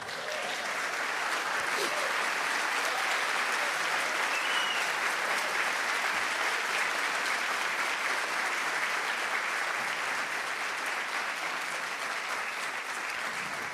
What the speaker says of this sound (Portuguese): primeiro uma salva de palmas para o Roberto que está aqui.